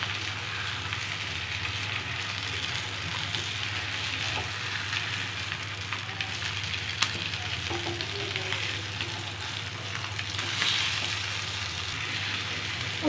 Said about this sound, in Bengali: আর একইভাবে আমি অপর পিঠটা ভেজে নেব। কেউ যদি চায় এভাবে মাছের ডিমের বড়া করেও খেতে পারবে।